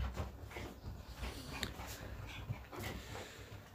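Several dogs eat side by side with kittens indoors, giving soft close chewing, lapping and faint whimpering and panting, with scattered small clinks and no talking.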